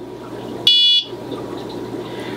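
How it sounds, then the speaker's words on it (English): A water leak alarm lets out a single loud, steady electronic beep lasting about a third of a second, standing alone over a low background hum. "Anyway, that's the alarm."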